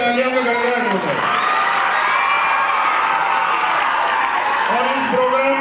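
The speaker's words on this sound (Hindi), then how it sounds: "इनके लिए सबसे पहले तालियों का गड़गड़ाहट होता है।" Audience at a school Islamic quiz contest breaks into applause and cheering, a steady wash of clapping and scattered whoops under someone speaking over a loudspeaker.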